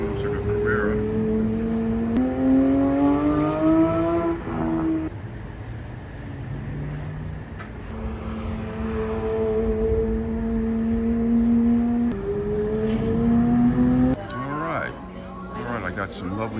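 A Porsche Carrera drives laps on a training track at a driving experience center in Los Angeles, its engine rising in pitch through two long revving passes before settling, moderately close and loud.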